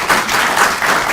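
Audience applauding a newly appointed full professor at a Stellenbosch University inaugural lecture; steady, dense clapping fills the hall throughout, loud and close, with no talk over it.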